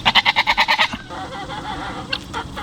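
Nigerian dwarf goats on a homestead give a loud, close, rapidly pulsing bleat of about eight beats, followed by quieter background noise and a couple of faint, short calls.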